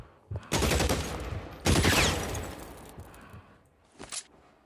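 Gunfire in the L.A. Noire video game: two loud, close bursts of rapid shots with trailing echo, followed by a fainter single shot near the end.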